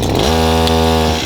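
Chainsaw revving loud and close while cutting a log segment, its engine note climbing quickly in pitch and then holding a steady high whine.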